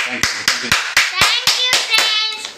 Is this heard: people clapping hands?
yes